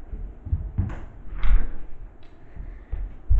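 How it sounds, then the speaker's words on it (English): A door being opened or shut, with several dull thumps and knocks spread over a few seconds, close by and alone with no talk. "Door wasn't fully shut."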